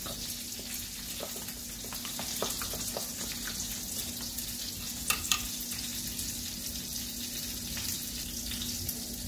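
A spoon mixes burger sauce ingredients with pickle relish in a bowl, making faint, scattered clicks and soft scraping over a quiet background hum.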